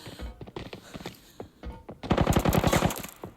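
Gunfire in the game Arena Breakout: scattered single shots and thuds, then a loud, rapid burst of automatic fire lasting about a second, close and punchy.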